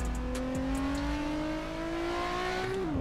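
Nissan 350Z engine in the Assetto Corsa racing game revving steadily with a rising pitch through a gear, loud and continuous, with a short lift at the end and no talking.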